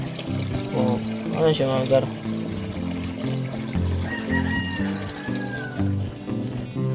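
Water pours into a home aquarium as a trickling, splashing stream that runs under a person talking nearby.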